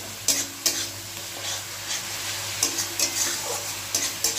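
Peas stir-fry in oil in a pan, a low steady sizzle broken by sharp spatula scrapes and taps against the metal at irregular intervals, close by and with no talking.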